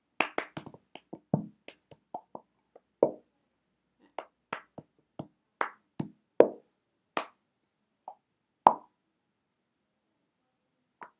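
A cup-song routine on a table: quick hand claps, taps on a plastic cup and hollow thuds as it is set down, in a brisk, rhythmic pattern that starts in a flurry and then spreads into sparser, evenly spaced hits.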